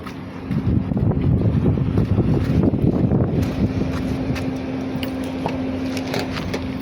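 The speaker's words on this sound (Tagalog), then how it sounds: "Mahangin." Steady wind rushes and buffets the microphone throughout, with creaking wood and a low droning hum underneath, fairly loud and continuous.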